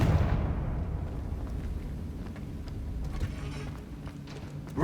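The Confringo explosive spell in Hogwarts Legacy lands as a deep, rumbling blast that decays into a long, low roar with scattered crackles fading over several seconds.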